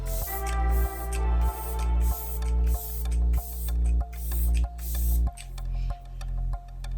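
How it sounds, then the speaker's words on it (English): Pretty Fresh hyaluronic acid setting spray misted onto a face in about nine quick, evenly spaced hissing bursts, close and crisp, over steady background music. "I'm going to spray this."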